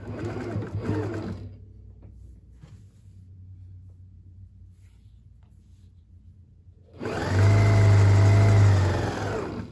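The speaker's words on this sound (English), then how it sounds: "Now what I'm gonna do is come in and actually make sure I start sewing where that the seam" A sewing machine stitches the seam of an ottoman cover, a loud steady mechanical whir starting after a long quiet pause and running for a few seconds, close by.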